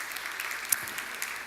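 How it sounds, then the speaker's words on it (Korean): A church congregation at a Sunday service applauding to bless a newly married couple, a brief burst of steady clapping from a crowd, fairly even throughout. "함께 박수해 주시기 바랍니다"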